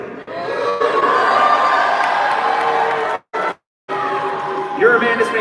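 A dense crowd roars and cheers for boxer Ryan Garcia at a fight event in New York, a steady loud wash of voices with brief dropouts near the end and scattered shouts.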